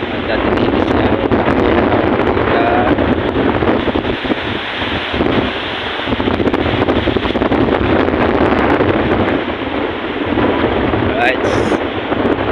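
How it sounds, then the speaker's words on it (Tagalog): Strong typhoon wind roaring and buffeting a microphone outdoors, a loud, continuous rushing blast that barely eases for over twelve seconds. "Taas pala ng hangin."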